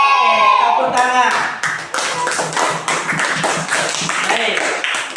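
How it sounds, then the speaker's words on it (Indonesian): A class of students claps hands in a burst of rapid, overlapping claps for several seconds, close by, after a teacher's spoken prompt. "Oke, tepuk tangan."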